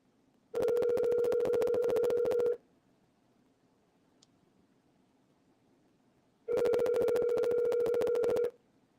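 A phone ringing over a speakerphone during a live call: two long electronic ring bursts of about two seconds each, separated by a pause of roughly four seconds, steady and moderately loud with no talk over them.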